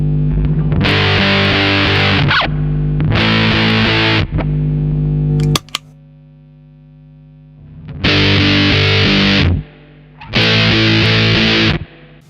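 A distorted electric guitar plays loud chugging bursts with an MXR M135 Smart Gate pedal switched off, so a steady hum and hiss fills the pauses between riffs.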